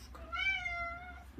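A Maine Coon cat gives one soft, drawn-out meow lasting about a second, close and quiet, with no talk over it.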